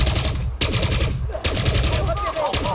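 Short bursts of automatic gunfire in the video game Elite Dangerous Odyssey, several quick volleys in a row at steady loudness, with a voice faintly under them.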